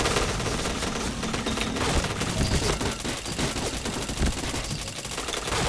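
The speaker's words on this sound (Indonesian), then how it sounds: "Siapa sih nembak ini nih?" Rapid automatic gunfire crackles almost without pause in a shooting video game, dense bursts of shots layered loudly throughout.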